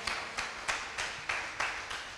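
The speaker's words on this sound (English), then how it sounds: "Let's give God just a loud clap for his great work." Congregation at a Sunday worship service clapping hands together in a loud burst, with several distinct, fairly regular claps spaced about a third of a second apart.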